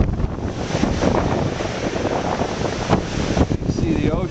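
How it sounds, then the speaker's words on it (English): Strong ocean-side wind of about 40 miles an hour roars and gusts against a window, buffeting the microphone with broadband rushing noise that swells and dips. "and you can hear the wind."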